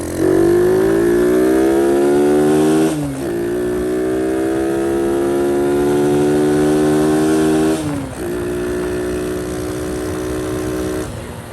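A Honda CT70 motorcycle fitted with a Lifan 125 engine idles and warms up up close, a loud steady buzzing drone with slight rises in pitch and two brief dips, running alone without talk.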